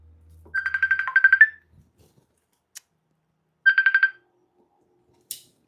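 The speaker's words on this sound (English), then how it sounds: "Getting a phone call." Electronic phone ringtone of an incoming call, a rapid trilling burst repeated twice with a pause between, clear and close with a couple of faint clicks.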